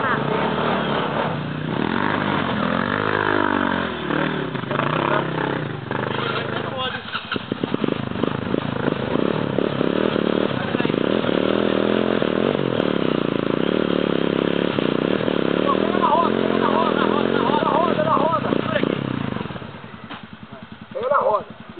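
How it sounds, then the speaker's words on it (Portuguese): A dirt-trail motorcycle engine revs and strains hard for long stretches while stuck in soil, rising and falling in pitch close by, then cutting back near the end, with people talking over it. "O problema é que a moto trava na terra."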